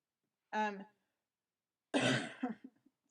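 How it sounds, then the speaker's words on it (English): Two coughs: a short voiced hack, then after a pause a harsher, longer cough trailing into smaller throat sounds. "I still have that cough."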